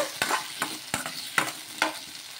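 Green chili, tomato and onion pieces frying in oil in a pan, with a soft steady sizzle and about five sharp stirring scrapes at a regular beat, close by, with no talking.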